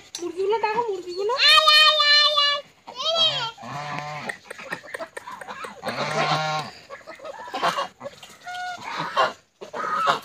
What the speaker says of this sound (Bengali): আয় আয়, মুরগিগুলো ডাকো, মুরগিগুলো।